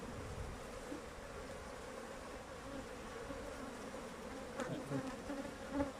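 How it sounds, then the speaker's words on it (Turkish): Dense swarm of honeybees humming steadily around an open two-storey hive during frame work, a close, continuous drone with a few louder passes near the end. "Arı yoğunluğu çok olduğu için saldırmıyor pek ama arı eziyoruz"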